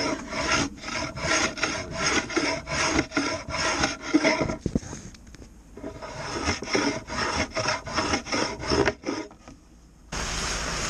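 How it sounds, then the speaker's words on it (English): Sanding a tapered wooden fillet piece by hand, heard as steady back-and-forth rasping strokes in a quick even rhythm, close and fairly loud, with a short pause midway and no talking. "Bit of sanding."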